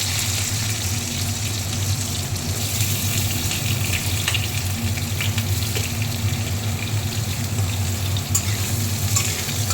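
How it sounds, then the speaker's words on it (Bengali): Cut potatoes frying in oil with black cumin in a small kitchen, giving a steady, close crackling sizzle that continues evenly with no talking. "কালো জিরে ফোড়ন দেওয়ার হয়ে গেলে তার মধ্যে কেটে রাখা আলুগুলো দিয়ে দেবো।"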